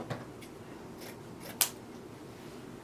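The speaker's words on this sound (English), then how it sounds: "what I'm going to do is cut some tails" Scissors snip ribbon tails for a sunflower pineapple wreath bow, giving one sharp close cut near the middle with faint handling noises around it.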